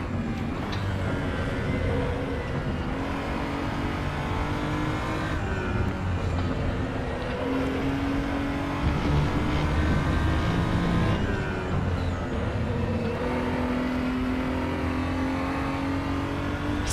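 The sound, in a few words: race car engine in the RaceRoom video game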